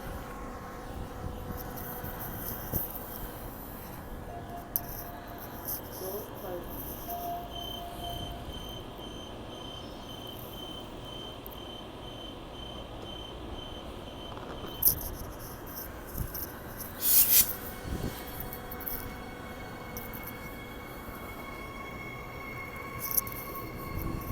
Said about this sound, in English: I will send the train out first.